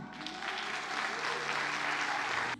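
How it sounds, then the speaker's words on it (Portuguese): A church congregation applauds during an evening worship service, a steady, dense clapping that fills the room for a couple of seconds and stops abruptly, with no speech over it. "Aplaude o Senhor."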